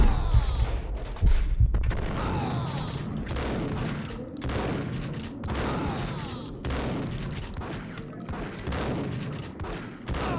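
Rapid bursts of gunfire from the video game Max Payne crackle densely and loudly, overlapping in a continuous fusillade with heavy booms throughout.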